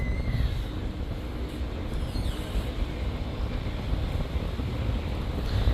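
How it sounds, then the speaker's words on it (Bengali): Strong wind buffets the microphone on a river launch crossing the Shitalakshya at Narayanganj, a constant loud rumbling roar with no one talking. "আজকের ওয়েদারটাও দারুণ, আকাশ পরিষ্কার, রোদ নেই, তবে বাতাস আছে অনেক।"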